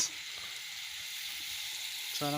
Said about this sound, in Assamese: মাংসৰ আগতে তেলৰ লগত পিঁয়াজ দিছে